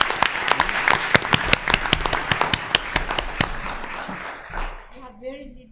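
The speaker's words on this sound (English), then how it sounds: "I wanted everybody to applaud her for the wonderful research she did" An audience at a panel discussion applauds with brisk, dense clapping that gradually thins and fades, and a voice comes in near the end.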